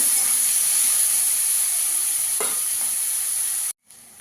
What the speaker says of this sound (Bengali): পেঁয়াজটাকে একটু ভেজে নেবো ভালো করে।